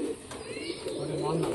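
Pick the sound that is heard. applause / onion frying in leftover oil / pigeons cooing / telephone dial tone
pigeons cooing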